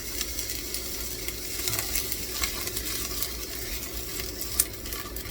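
Half an onion softening in a hot pan, giving a constant close sizzle with light stirring scrapes and one brief sharper tick near the end.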